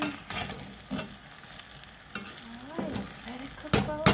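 Haitian spaghetti with hot dogs sizzles and fries in a pan, with repeated scraping stirs and utensil knocks against the pan over a continuous crackle, close and moderately loud.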